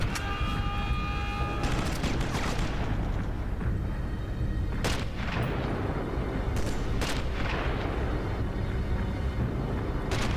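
Machine pistol gunfire in the video game Sniper Elite, bursts of sharp shots and booming impacts over a dense, continuous battle din, with a few louder cracks standing out along the way.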